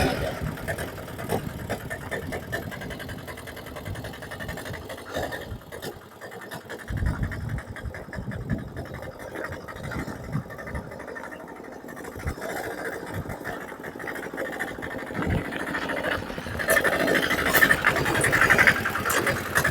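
An auto rickshaw engine runs throughout, with a rough idling drone and mechanical gearbox noise from a gearbox fault rising and falling, while people talk over it.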